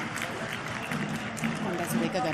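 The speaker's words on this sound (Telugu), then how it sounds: "గట్టిగా చప్పట్లతోటి మన అభినందనలు తెలియజేసుకుందాం" Audience applause for the Chief Minister at a women's empowerment policy launch event, a steady, dense wash of clapping from a crowd throughout, fairly even in level and moderately loud.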